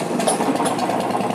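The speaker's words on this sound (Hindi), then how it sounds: "बाइक को हमने स्टार्ट कर दिया" A Royal Enfield motorcycle engine idles steadily after starting, a rapid even chugging pulse heard up close, on a bike with a battery that will not charge.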